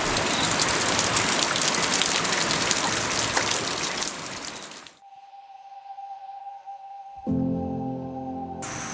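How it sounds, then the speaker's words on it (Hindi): Heavy monsoon rain pours steadily at a hill resort in Coorg for about five seconds, then cuts off abruptly to near quiet with a faint hum and some scattered background noise. "ऐसे बारिश हो रहा है अभी भी पूरा।"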